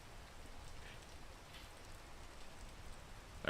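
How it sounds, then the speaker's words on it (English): Rain falls steadily in the Peak video game, a soft, even hiss of drops pattering on surfaces, faint and continuous with no talk. "Oh no, the rain comes in right as I do not need it to."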